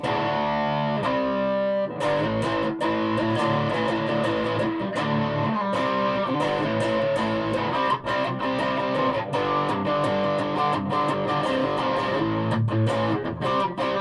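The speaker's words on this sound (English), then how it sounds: "it's like a new metal sound in the distortion because it's called a new tone" Heavily distorted electric guitar through a Carlsboro 250-watt amplifier head plays a sustained, dense riff with crunchy chords and no vocals, loud and steady throughout.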